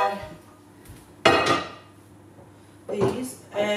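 A metal frying pan is pulled out and set down in a home kitchen, giving two sharp clattering knocks with pan-and-dish rattles between quiet pauses, with a person speaking faintly.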